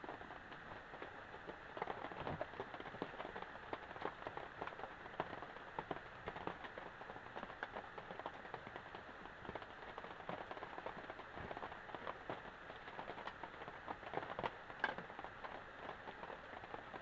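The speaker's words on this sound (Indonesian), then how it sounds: "Hujan gak reda-reda dari tadi." Rain falls steadily on a garden hut, a soft continuous patter with scattered sharper drop taps, faint and unbroken throughout.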